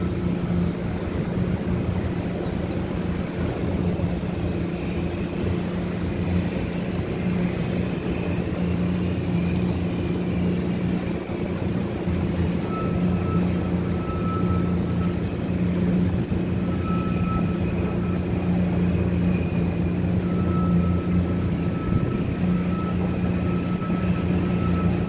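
A small boat's outboard motor runs flat out on open water at only about 7 to 8 mph, giving a steady, unbroken droning hum that holds a constant pitch throughout with no voices.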